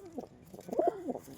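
A young male pigeon gives a short, close cooing call, a couple of throaty rising and falling notes in quiet surroundings.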